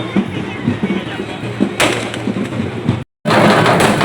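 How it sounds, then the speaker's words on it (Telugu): Firecrackers go off at a Dasara street festival in Machilipatnam: one sharp burst stands out amid loud crowd noise and nearby talking, followed by a brief dropout. "ఇక్కడైతే క్రాకర్స్ పేలుస్తున్నారు"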